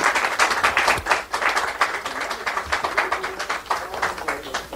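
Audience applause at a South Korean political campaign event where a presidential candidate meets culture and arts workers, dense steady clapping from a crowd with rhythmic swells, moderately loud and close.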